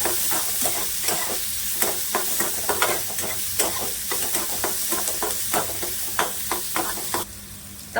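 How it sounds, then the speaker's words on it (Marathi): Finely chopped onion sautéing in a hot pan, a steady close sizzle broken by frequent scraping stirs of a spoon against the pan that keep a brisk, uneven rhythm until the sound drops away near the end. "ते बारीक चिरलेला कांदा सुद्धा आहे ना चांगला परतून घ्यायचा त्याला"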